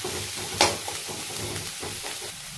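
Chopped onions frying in a little mustard oil until reddish, a steady low sizzle with soft stirring scrapes throughout and one brief louder clatter near the start.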